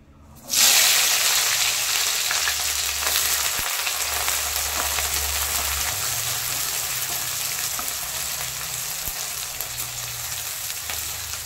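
Chopped onion and green chilli hit hot mustard oil with a sudden loud burst of frying, then a steady intense sizzle that slowly settles, close and continuous, with no voices.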